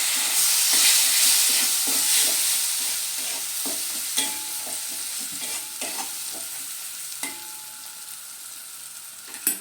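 Spice paste sizzles loudly and steadily in a hot pan after a splash of water, a dense hissing fry that slowly eases while a spoon scrapes and taps in scattered strokes.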